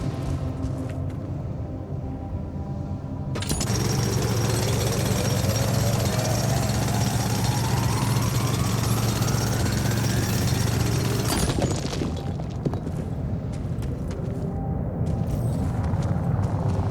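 A mining drill bores through loose rocks in the video game The Alters. A loud, steady mechanical grinding roar kicks in after a quieter start and rises slowly in pitch, then cuts back to a rumbling background hum.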